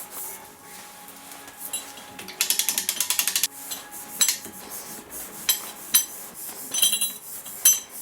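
Rapid ratcheting clicks as a let-down handle is turned on an Urgos mantle clock mainspring, a fast burst of evenly spaced clicks followed by scattered metallic ticks and clinks, close and clear with no talking.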